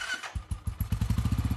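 A motorcycle engine fires up and runs in quick, even throbbing pulses close by. No voices are heard.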